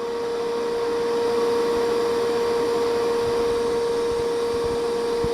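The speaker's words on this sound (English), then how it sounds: "so it's sucking air through it" A vacuum draws air through a car's DPF filter, giving a loud, steady whooshing roar with a constant high whine that holds unchanged throughout.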